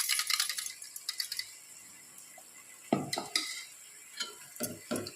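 A metal spatula clinks and scrapes against a pan while chillies sauté for chicken biryani, with soft frying noise and a handful of sharp, close stirring strokes that come in clusters.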